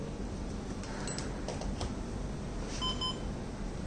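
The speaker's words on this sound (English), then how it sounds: "initially the beep will be come out from the speaker" A few short, faint electronic beeps from the speaker of an ultrasonic obstacle-detecting device sound over a low background hum, two quick tones near the end.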